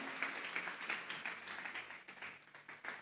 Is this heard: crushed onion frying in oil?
no